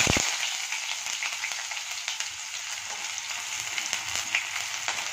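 Sliced onions frying in a pan of hot oil while masala for a biryani is started, a steady bright sizzle with a few sharp crackles near the start and occasional spits, close and continuous with no talking.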